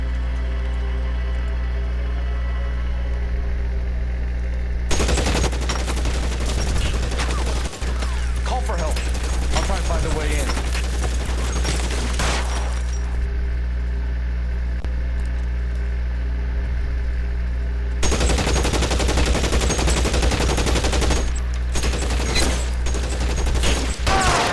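Gunfire in the video game L.A. Noire, two long stretches of dense rapid shots and crackling impacts over a constant low engine-like hum, with a player talking briefly between them.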